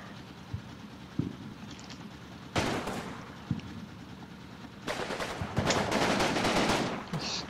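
Soldiers fire guns in the video game Combat Mission, with sporadic single shots giving way to sustained bursts of machine-gun fire. Two long rattling volleys sound at mid distance, the second heavier and continuous.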